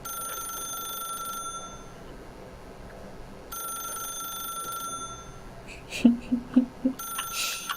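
A telephone rings in The Stanley Parable, a short burst of about four bright, evenly spaced rings near the end, rising over quiet ambient background tones.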